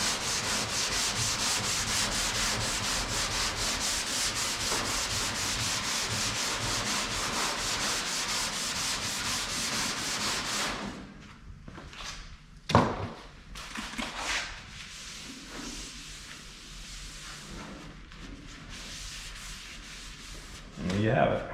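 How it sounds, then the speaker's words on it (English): Steady abrasive rubbing of block sanding primer on a 1954 VW Beetle body for about ten seconds, then it stops, leaving quieter handling noises and a couple of sharp knocks. "You just keep sanding it till all the black is gone."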